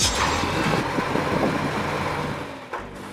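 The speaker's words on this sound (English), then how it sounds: "A vehicle designed for collecting and transporting waste and garbage from residential and commercial areas." A garbage truck engine runs steadily and close by, a broadband rumble that eases slightly near the end, with no talking.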